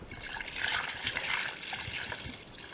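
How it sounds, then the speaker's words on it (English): Whey pours back into a pan of curds while making Gouda cheese, a soft, steady trickle and splash that is faint and continuous with no voices. "add some more of the whey back into the pan"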